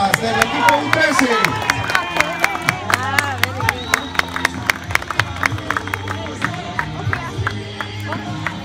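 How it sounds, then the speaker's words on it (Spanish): Crowd clapping and cheering for a right back on an under-13 youth football team, a dense burst of applause that thins into scattered claps and calls over roughly nine seconds. "Un fuerte aplauso para el defensa derecho Brian Corea del equipo U13."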